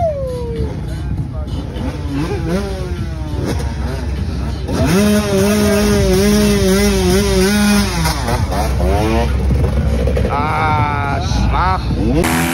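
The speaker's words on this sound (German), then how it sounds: "hier wird auch Motorrad gefahren" A motorcycle engine revs repeatedly at a big-bike meet, its pitch rising and falling in surges, loud and close, with voices talking in German over parts of it.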